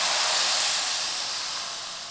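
Water is poured into a hot spiced oil tempering for a spicy lentil-and-dough stew, giving a loud, close, broadband hissing sizzle that fades slightly over its short duration.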